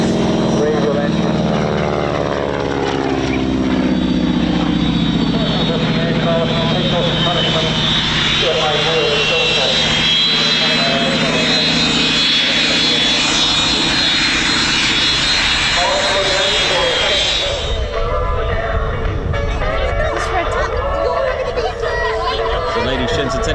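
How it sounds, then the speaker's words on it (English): A very large radial piston aircraft engine drones loudly and steadily at an RAF air display, a deep throbbing roar with a rising and falling pitch as the plane passes, fading somewhat near the end. "Very large piston engine, radial engine."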